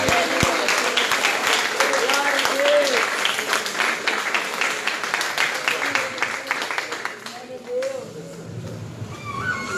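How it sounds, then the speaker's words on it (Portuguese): A church congregation claps loudly and steadily in praise to God, dense rhythmic applause filling most of the stretch before thinning out near the end, with voices and a brief shout mixed in. "Vamos aplaudir o nosso Deus bem forte."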